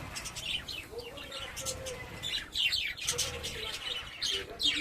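Quick, high budgerigar chirps come in clustered bursts, with softer lower calls mixed in beneath them, near and fairly quiet, as the birds feed from a hanging cuttlefish bone.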